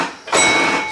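Genco Space Age pinball machine ejecting its balls: a short mechanical clunk followed by a loud, close rolling rattle that sustains to the end, with no voice.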